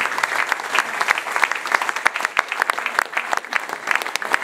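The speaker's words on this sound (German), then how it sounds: "Das ist dein Applaus." Loud, close audience applause for Franz Schnabl at a Mostviertel election campaign kickoff rally, a dense crackle of many hands clapping steadily for several seconds with no talk over it.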